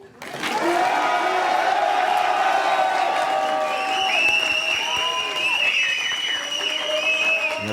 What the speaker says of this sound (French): On applaudit, c'est un mariage.